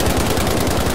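StG assault rifle from Battlefield V fires in a rapid, steady automatic burst, loud and continuous for the whole second with no talking over it.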